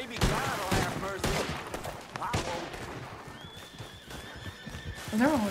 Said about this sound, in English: And there are horses.